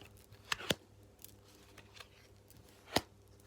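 Oracle cards being shuffled by hand, a few sharp riffling snaps, two close together near the start and another a couple of seconds later, with quiet rustling between.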